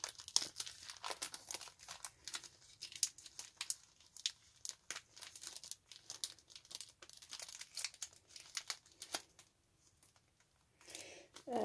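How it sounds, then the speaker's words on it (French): Adhesive tape being peeled and pulled from the back of a mail package, heard close as crinkly tearing and rustling bursts mixed with soft paper handling noises. "je bataille avec le scotch là à l'arrière."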